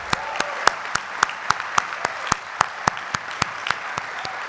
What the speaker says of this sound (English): Give yourselves a round of applause and congratulations